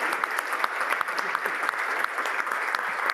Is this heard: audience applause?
yes